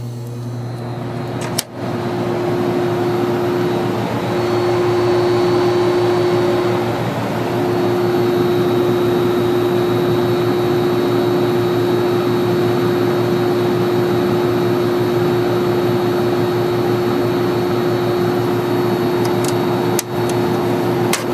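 A basement air conditioner with a reciprocating compressor runs set to full cold, a steady close mechanical hum with a constant tonal whine and airy fan rush, broken only by two brief clicks.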